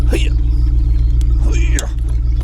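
A truck hooked to a trailer cranks over, a deep rumbling engine with two grinding starter attempts, close and loud, and the engine does not settle into an idle.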